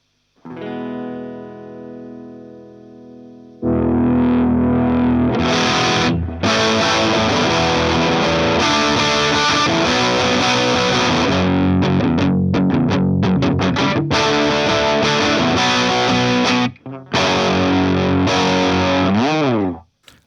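A loud, heavily distorted electric guitar strums thick chords through a VOX AC15 amp after a quieter opening note, with brief gaps where the chords cut out.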